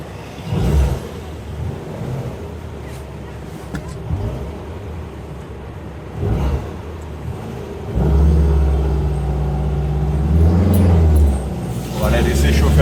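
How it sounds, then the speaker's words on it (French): A 1962 VW Beetle convertible with an 1835cc performance engine rumbles steadily and loudly, with a deeper, stronger throb building in the second half, while people talk over it. "Le moteur, il respire fort."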